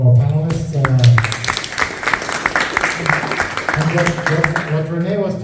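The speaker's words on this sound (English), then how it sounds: "let's give a big applause for our panelists" An audience at a Mexico–Texas collaboration panel breaks into sustained applause for the panelists: dense, loud clapping filling the room, with a voice speaking before and after it.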